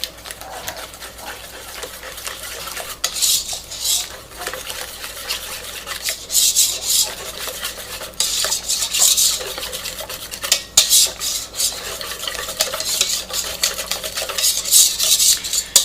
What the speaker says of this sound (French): Et voilà, je mélange.